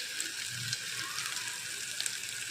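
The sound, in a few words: masala frying in oil for soybean gravy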